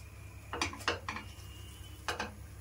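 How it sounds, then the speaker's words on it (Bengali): A metal lid is set onto a pan while fish paturi cooks, a few soft clinks and scrapes in two short bursts, close and fairly quiet against a faint steady hum. "এবার একটা ঢাকনা দিয়ে দিচ্ছি"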